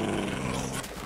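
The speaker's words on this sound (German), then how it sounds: "Noch mehr Hunde?" Dogs growl in the Minecraft video game, a low, rough, continuous snarl close up and fairly loud, easing slightly near the end, with no talk.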